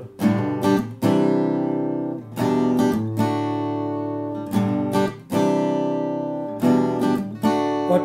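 An acoustic guitar is strummed in bold downstrokes on open chords, several ringing strums each left to sustain and decay before the next, loud and close with no voice.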